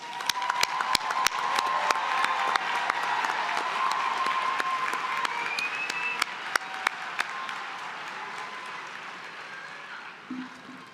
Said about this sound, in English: So how about a round of applause for our graduates?